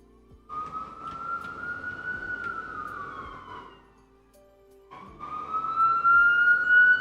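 A loud siren wails close by, rising and holding, dropping away briefly, then returning even louder and higher.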